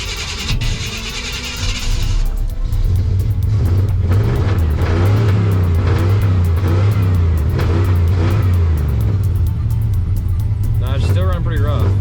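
A 1989 Chevy C1500 pickup's small block V8 idles and revs unevenly, running rough with a loud, steady low rumble that persists throughout the clip, close to the listener.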